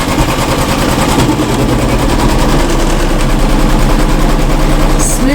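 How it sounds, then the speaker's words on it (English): Embroidery machine stitching fabric down in a hoop, a loud, close, rapid mechanical chatter of needle strikes at a steady fast rhythm over a constant motor hum, running without pause. "So we return the hoop to the machine, and then colorway 3 is going to stitch down that fabric in the correct position."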